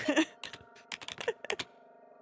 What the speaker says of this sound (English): Hit the keys, Trin.